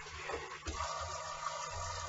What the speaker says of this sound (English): Add some more water to this.